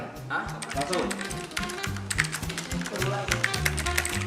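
Rapid, uneven clatter of computer keyboard keys during a typing race, loud and close, with people talking over the keystrokes throughout.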